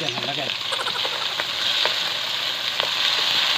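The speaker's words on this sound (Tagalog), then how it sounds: "lutuin lang natin ng konti yung kamatis tsaka sibuyas" Tomato and onion sizzle steadily in a hot pan for a sinigang with lechon kawali, with a continuous close frying hiss and a few brief stirring scrapes, no talking.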